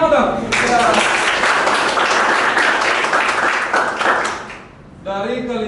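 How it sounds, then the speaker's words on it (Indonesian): Audience at a university class session claps steadily for about four seconds, then the applause fades and a voice speaks at the end. "Kasih tepuk tangan dulu dong"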